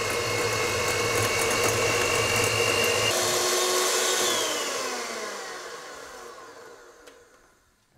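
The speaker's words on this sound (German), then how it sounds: "jetzt mal eben schnell den Kaffee anfangen zu quirlen" An electric whisk whips coffee for Dalgona coffee with a steady, buzzing motor whine. It runs evenly for a few seconds, then gradually winds down and fades out.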